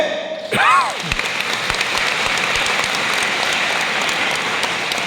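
Steady applause from a school audience at an exam-as-festival event at Royal Apollo International School, starting abruptly after a brief tone and continuing as a dense, even clatter of many hands for several seconds.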